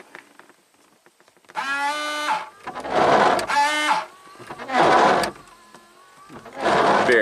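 On an old, abandoned Audi turbo, the electric windshield washer pump runs in several separate bursts. Each burst is a loud, buzzing motor whine with spraying hiss, followed by short pauses.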